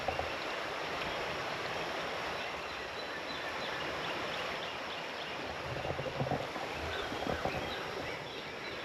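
A stream flowing outdoors, its water running high, gives a steady, dense rush of water that holds constant throughout, with slight swells near the end and no voices.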